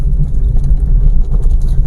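Manual car crossing a speed breaker on a highway with the clutch fully pressed, a low steady engine rumble and road noise from inside the cabin, no talk.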